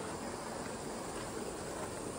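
Strong water rushing through a sudden stream in front of a house in the Philippines, a dense, continuous broadband roar with no breaks, close to the microphone.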